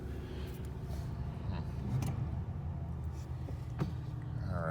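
A 1985 Oldsmobile Delta 88 idles steadily as it warms up on a first start, a low continuous engine rumble with a couple of faint clicks on top.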